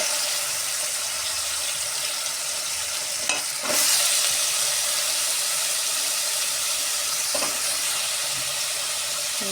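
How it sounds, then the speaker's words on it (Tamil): Vegetables added to sautéed tomatoes in a pan for kathamba sambar sizzle steadily, with a couple of sharp scraping stirs partway through. "இப்போ இந்த ஸ்டேஜில் அந்த காய் எல்லாத்தையும் சேர்த்துடலாம்"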